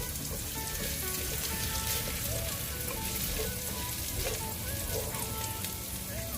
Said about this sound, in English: I'm adding the capsicum.